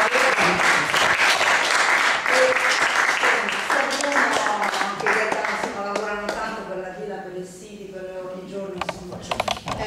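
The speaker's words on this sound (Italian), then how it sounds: "per cui chiederei un applauso" An audience in a library applauds with dense, steady clapping that thins out toward the end as a voice starts speaking over it.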